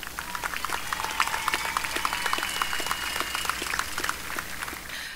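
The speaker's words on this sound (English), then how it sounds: "please give yourselves a round of applause" Graduates and families applauding at a military institute graduation ceremony, a steady crowd clapping with distinct sharp claps throughout about five seconds, moderately loud and without speech.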